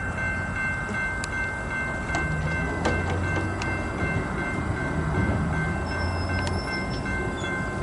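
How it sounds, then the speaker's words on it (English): A freight train led by a War Bonnet locomotive, with two orange units and another War Bonnet trailing, backs into Hobson Yard in Lincoln, Nebraska; a steady loud rumble with rolling car noise and faint squeals, no talking. "We're going to push out in the reverse into the yard."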